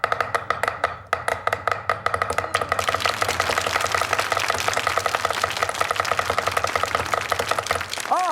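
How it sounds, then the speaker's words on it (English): A cleaver mincing shrimp and pork together on a board, with fast, steady, rhythmic chopping that runs without a break from start to finish. The chops are close and crisp, and no voice is heard. "You mince it all together and you go, look at this."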